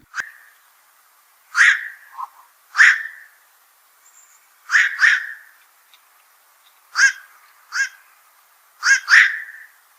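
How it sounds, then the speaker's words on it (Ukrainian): Harsh, croaking heron calls at a zoo in Odesa come in short bursts, often in pairs, every second or two, fairly close and loud, with quiet between them. "Таку назву ця чапля отримала через незвичайні звуки, які вона видає"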